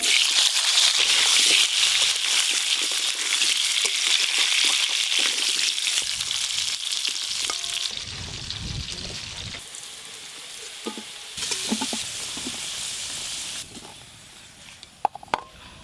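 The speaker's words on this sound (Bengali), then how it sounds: "ওই মাছ ভাজার তেলে আলুগুলো লাল লাল করে ভেজে নেব।" Potatoes frying in leftover oil from frying fish, a dense, steady sizzle up close that thins and softens partway through, with a few clatters near the end.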